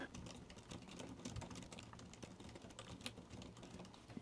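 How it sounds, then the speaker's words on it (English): Quick touch typing on a computer keyboard, a quiet, busy patter of soft key clicks running steadily without pause, close by and faint, with no talk. "let's do one on the computer. My touch typing is not brilliant"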